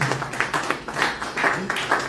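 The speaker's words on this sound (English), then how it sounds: "Put your hands together." Audience applause at an investment meet-and-greet in Toronto, steady overlapping clapping from a crowd with some voices mixed in.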